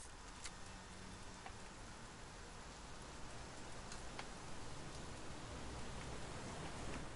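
Steady rain falling outdoors over a weekend, a dense even hiss of drops on surfaces with occasional louder patters, continuous and fairly close throughout with no talking.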